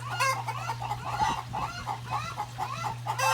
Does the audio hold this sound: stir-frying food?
no